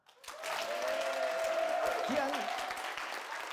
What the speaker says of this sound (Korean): 박수까지 쳐봐.